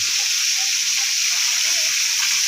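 Squid skewered on a stick frying in hot oil, a steady, close, loud sizzle with bubbling underneath.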